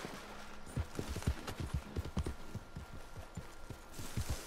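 Horse hooves clip-clop in the Red Dead Redemption 2 video game, a steady, close walking rhythm of sharp thuds with faint outdoor ambience behind.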